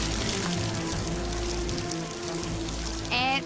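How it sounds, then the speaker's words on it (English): Heavy monsoonal rain pours onto a shelter roofed with layered ferns in an island survival setting, a dense steady wash of water throughout, with a brief louder burst near the end. "that monsoonal rain just poured down 150 litres on top of my shelter, and she held up"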